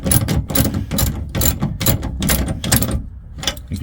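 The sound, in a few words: wrench tightening a lock nut on a bracket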